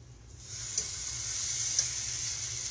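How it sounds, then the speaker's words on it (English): Self-rising flour hoe cake batter sizzles in a skillet, a steady close hiss rising after a brief quiet start, with a couple of small pops along the way. "Y'all hear it sizzling."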